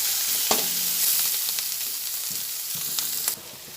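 Masala frying in oil for a jackfruit curry, a close, steady sizzle with a few scraping stirs and soft clinks, easing slightly toward the end.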